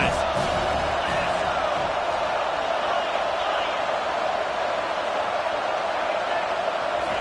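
A stadium crowd at a football game roars in a dense, sustained wash of voices, loud and unbroken throughout, with no distinct single voice standing out.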